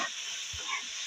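Chopped onions sizzle in a pan while being browned lightly for Nargisi kofta, a steady close hiss with a few soft stirring scrapes.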